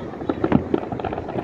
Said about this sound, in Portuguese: Uma girândola de fogos.